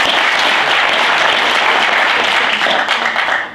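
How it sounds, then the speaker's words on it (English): Loud, sustained applause from a large audience, dense steady clapping filling the whole stretch without a break. "So please give her a round of applause."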